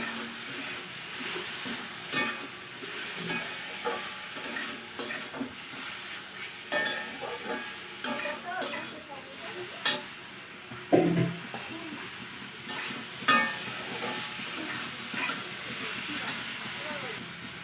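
Red amaranth greens stir-fried in a pan with poppy seeds and nuts, a steady sizzle and hiss broken by repeated scraping and clattering stirs of a utensil, close and fairly loud.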